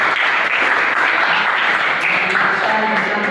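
Classroom applause from students at a junior high school during a group presentation, a loud, continuous patter of clapping close by, with faint voices mixed in toward the end.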